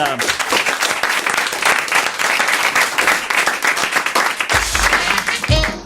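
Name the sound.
studio audience applause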